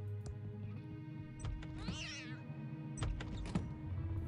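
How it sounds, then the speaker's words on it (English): A cat in the video game Thimbleweed Park gives a single wavering meow partway through, set among scattered clicks and thumps over a steady low background hum. "Oh, there's a cat in there."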